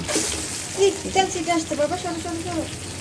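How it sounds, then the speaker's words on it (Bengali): Chopped onions sizzling in a wok of hot oil that was just used for frying fish, a steady crackling fry with a bright hiss, while someone talks over it. "এখন এই পেঁয়াজগুলোকে আমি যেই কড়াইতে আমি মাছ ভেজেছি সেই কড়াইতেই আমি পেঁয়াজগুলো ভেজে নেব"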